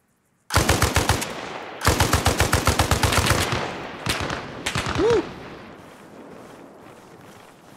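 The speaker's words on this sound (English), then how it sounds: "Run towards the gunshots." Rapid bursts of automatic gunfire in Arma Reforger rattle close and loud, several volleys in quick succession, then scattered shots fade into a trailing echo.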